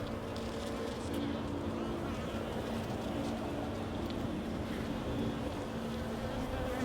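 Honeybees buzzing inside a Layens horizontal hive make a dense, steady drone that fills the whole stretch, close and fairly loud with no break.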